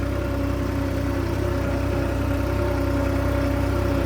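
A New Holland three-cylinder tractor hitched to a laser leveler runs at a steady, even throb, close and constant with no pauses.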